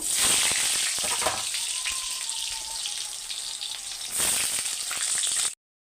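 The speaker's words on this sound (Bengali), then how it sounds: "এখানে আমি আলুগুলো ভেজে নেব" Potatoes frying in hot oil in a wok, with cumin and panch phoron seeds in the oil. A steady bright sizzle runs close and loud throughout, easing slightly midway before swelling again and then cutting off abruptly near the end.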